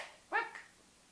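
Rocket, an indoor dog near a puppy pad, gives one short, close, high-pitched whimpering yip with a fainter follow-on, in a quiet room.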